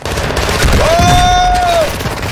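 Gunfire in Call of Duty Warzone 2, a sustained loud volley of rapid shots with a rising whistling tone on top, playing continuously for a couple of seconds, with no talk.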